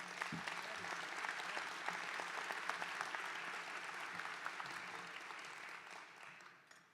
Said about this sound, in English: A round of applause, please, for the OAME staff.